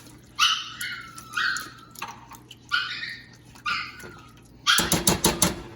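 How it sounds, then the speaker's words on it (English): A puppy barks and yips in a kitchen, a handful of high, close barks spaced across a few seconds, ending in a quick flurry of sharp rapid yaps. "The puppy's serenading you"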